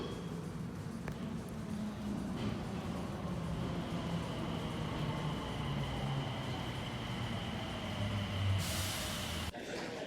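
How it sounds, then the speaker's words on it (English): An airport train at Atlanta rolls in with a low rumble and hiss of brakes, ending with a burst of air and a door sound. "Train is arriving. Please stand clear of the doors."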